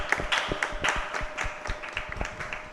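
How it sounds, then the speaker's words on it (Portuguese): Scattered clapping from an audience at a talk on coping with pandemic anxiety, a modest spread of hand claps and taps with no voices over them. "Eu gostaria aqui que todos nós batêssemos uma salva de palmas"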